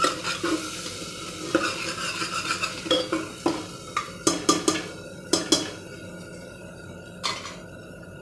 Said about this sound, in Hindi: थोड़ी देर हम इस प्याज के पेस्ट को पकाएंगे।